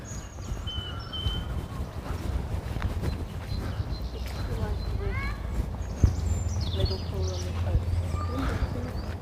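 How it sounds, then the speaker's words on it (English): Birds in the trees of an arboretum with bird and squirrel feeders, several chirps, whistles and short trills scattered at middle distance over a low steady background hum, with a person speaking at times. "You can hear the birds in the trees as well."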